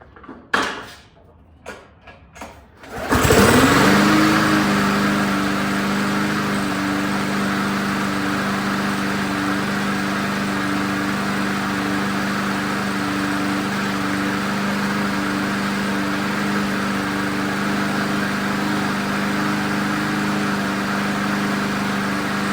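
A small engine, freshly adjusted at the idle spring, settles into a steady idle after a few seconds of clunking handling noises, then runs alone with an even, close, continuous drone.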